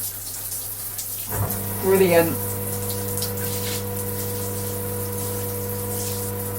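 A rainfall shower head in an en suite bathroom starts up after a click and runs as a steady, full rush of falling water, with a low hum beneath and a brief spoken word.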